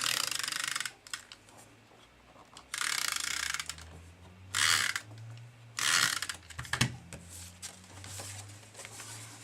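A snail adhesive tape runner is pressed along cardstock, giving several short, close ratcheting clicks and rasps in separate bursts with quiet gaps between them.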